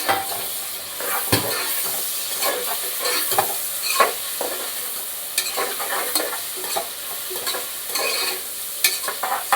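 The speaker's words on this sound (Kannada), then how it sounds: "ಈರುಳ್ಳಿ ಮತ್ತು ಟೊಮೆಟೊ ಫ್ರೈ ಆಗ್ತಿದೆ." Onions, tomatoes, green chilies and pulao spices fry in a pan for palak chicken biryani, a steady loud sizzle broken by repeated scraping stirs of a spoon against the pan.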